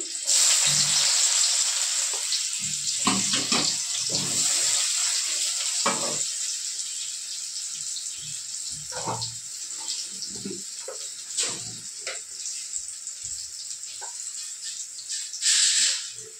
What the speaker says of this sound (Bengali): দেখো পেঁয়াজ কুচি দিয়ে দিচ্ছি, পেঁয়াজ কুচি।